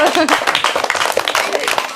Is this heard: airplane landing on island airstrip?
no